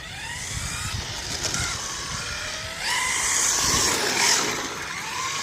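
A Traxxas Corvette Stingray 4TEC 3.0 RC car drives around a cone course, its small electric motor whining and rising and falling in pitch as it accelerates, brakes and slides, heard close and fairly loud.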